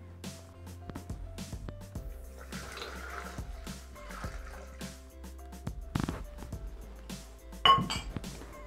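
Milk poured into a Thermomix bowl, a soft trickling and splashing of liquid with a few glassy clinks, close and fairly quiet.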